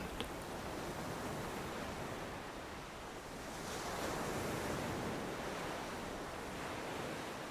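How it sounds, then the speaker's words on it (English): Ocean waves at a beach, a continuous broad wash of surf with gentle swells, steady and moderately distant with some wind, no voices. "Focus on the waves."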